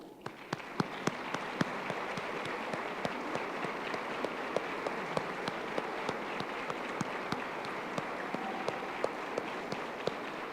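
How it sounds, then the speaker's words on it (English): A breakfast room crowd gives a sustained round of applause for the Pacesetters at a 2017 Making Strides kick-off breakfast, a steady dense clatter of many hands with sharp individual claps standing out, going on without pause. "join me in giving them a big round of applause"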